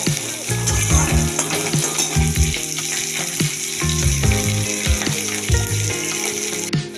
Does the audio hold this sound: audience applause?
no